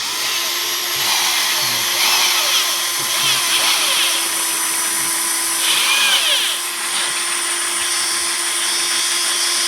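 A power drill whines continuously with short surges as screws are driven into a pump, close and loud over steady background hum.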